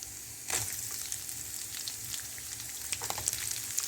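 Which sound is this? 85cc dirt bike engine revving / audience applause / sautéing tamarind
sautéing tamarind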